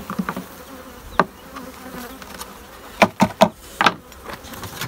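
Honeybees at an opened wooden hive during winter feeding, a faint steady buzzing with several sharp knocks and clacks close by.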